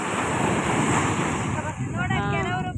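Backwater waves wash in close by at Poovar, a steady rushing surge mixed with wind buffeting the microphone, and a voice speaks briefly near the end.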